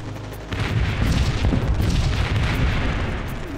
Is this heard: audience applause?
no